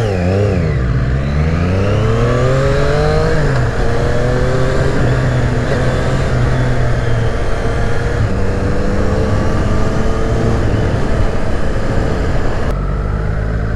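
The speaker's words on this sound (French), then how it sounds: "je vous laisse juste le son et le plaisir du 3 cylindres" A 2020 Triumph 765 Street Triple RS three-cylinder motorcycle revs and accelerates up through the gears, its loud, close engine note rising and falling in pitch with each shift, heard alone without talk.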